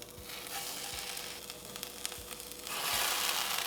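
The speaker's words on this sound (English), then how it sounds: "we're just gonna lay our tempeh in here" Tempeh laid into a hot pan sizzles in a continuous close hiss, with a few soft taps as pieces are set down, swelling louder and brighter toward the end.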